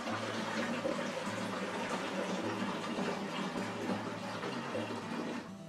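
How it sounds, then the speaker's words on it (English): Lukewarm water swirled around inside a plastic jug to rinse out leftover grape juice while brewing a wine kit, a low sloshing churn with a steady watery hiss, close and quiet, easing off at the end. "Swirl that out with another litre of lukewarm water"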